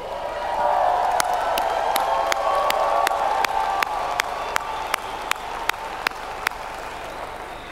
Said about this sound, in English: Don't you think the staff of Forever in the world deserves a big round of applause?